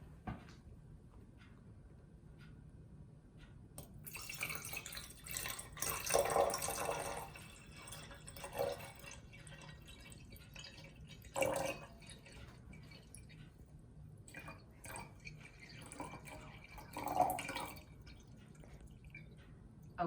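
Water poured slowly into a container during a home science demonstration, heard as soft intermittent trickling and dripping bursts at moderate distance over a faint background hiss, with no talk.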